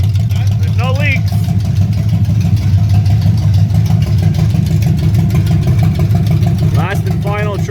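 A long-forgotten 1965 Ford Mustang Fastback engine turning over for its first start in 44 years, a loud steady low rumble with brief rising whines near the start and end and a person talking over it.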